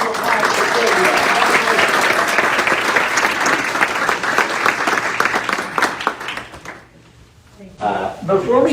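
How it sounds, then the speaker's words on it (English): An audience at a school district evening honoring students and employees of the month applauds loudly and steadily, a dense clapping wash that fades out near the end before a brief burst of noise returns. "One more big round of applause for Sylvia."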